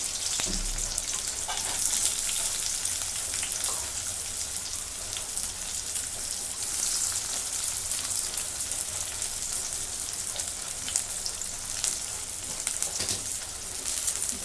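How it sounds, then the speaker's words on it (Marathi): Sliced onion fries in a pan for a bhindi and chickpea curry, giving a steady, dense sizzle like light rain that holds through the whole stretch, with a few faint knocks and stirs and no talking. "कांदा मला चांगला परतून घेतला"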